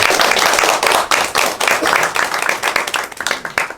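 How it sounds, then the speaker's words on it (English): An audience at an academic symposium applauds a speaker: loud, close, dense clapping from many hands that tapers slightly toward the end. "give her an applaud"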